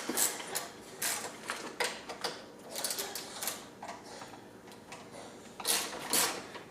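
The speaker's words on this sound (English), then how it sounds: "we're going to use a 6mm Allen key to loosen up these 4 bolts on the back" A 6mm Allen key loosening four bolts on a wheelchair seat backrest, close and quiet metallic clicks and ratcheting scrapes in short bursts with pauses between them.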